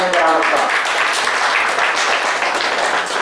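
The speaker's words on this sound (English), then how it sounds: "Please stand in the round of applause." A seminar audience stands and applauds at an inaugural session, a dense, steady wash of many hands clapping that is loud and even throughout. A voice may be briefly heard at the start.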